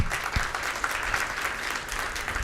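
A conference audience at Atlassian Summit 2013 breaks into applause, a dense, even wash of many hands clapping at moderate volume, continuous for a couple of seconds.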